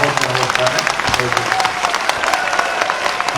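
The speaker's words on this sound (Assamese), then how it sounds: "সকলোকে এবাৰ থিয় হৈ মাননীয় মুখ্যমন্ত্ৰীৰ বাবে এটা হাত চাপৰিৰে" A standing audience applauds the honourable chief minister at a political event in Assam, with dense, steady clapping that fills the whole stretch.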